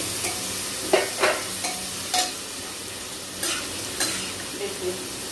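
Tomatoes going into dal frying with ginger and garlic paste, a steady sizzle with several stirring scrapes and clinks of a utensil.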